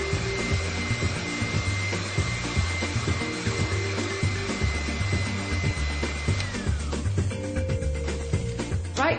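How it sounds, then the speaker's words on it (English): An electric whisk beats cream continuously with a loud motor whir and rhythmic rattling against the bowl, its pitch dropping near the end as the mixture thickens. "I need to whisk the cream until it forms firm flakes."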